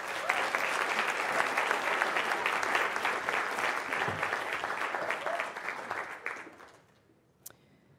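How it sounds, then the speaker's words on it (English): An audience at a teacher of the year award ceremony claps loudly and steadily for several seconds, then the applause tapers off into near silence. "Let's give Leah another round of applause."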